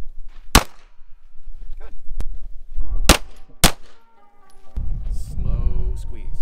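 An airsoft pistol fired in an armed security permit class: three sharp, loud cracks spaced apart, followed by handling noise, with a voice speaking briefly.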